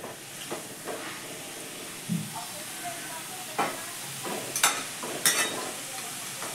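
Green beans cooking in a pan over low gas give a soft steady hiss and faint sizzle, with scattered clinks and scrapes of stirring.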